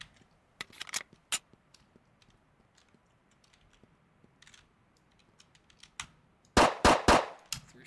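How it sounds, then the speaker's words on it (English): Colt 1902 pistol shots, a few sharp isolated cracks early, then a quick cluster of three to four loud close reports near the end with faint handling clicks between. "Three shots off."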